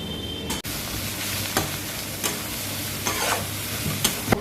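Spiced food with a little chili powder is stirred in a pan over a steady low sizzle, with a few scattered scrapes of the spoon and no talking.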